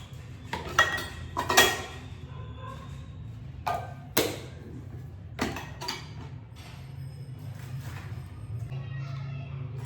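Spoons and bowls packed away, a series of sharp metallic clinks and clatters in uneven bursts, close up, then settling into a low steady background.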